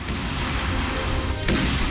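Heavy explosions from Ukrainian military strikes during the war with Russia rumble loud and dense, a continuous booming roar with a sharper burst near the end.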